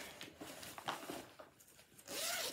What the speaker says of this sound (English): Sorry about the zips.